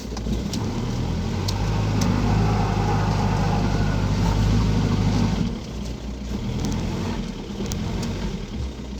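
A car stuck in a ditch in a forest revs its engine hard with tyres spinning, a loud, steady roar that eases after several seconds and then builds again. No voices are heard.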